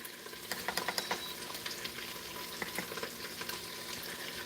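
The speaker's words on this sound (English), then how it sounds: "I'm just keeping it sauteing so that I can keep it cooking a little bit more" Meat for a pot roast sautés in an Instant Pot with a quiet, steady frying sizzle and small crackles and pops throughout, fairly faint and without talking.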